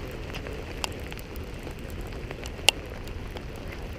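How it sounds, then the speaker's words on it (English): Steady rain hiss fills the scene outdoors during catfish fishing, a constant wash of falling water with one sharp tap near the end and no talk. "It's pouring down rain."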